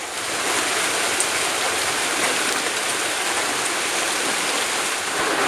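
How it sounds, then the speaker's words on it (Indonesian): Heavy, steady rain pouring down outdoors near a floating house on a river, a dense continuous hiss with no breaks, close and loud, with no talking. "Hujan lagi teman-teman, baru siap-siap berangkat ke rakit dah hujan."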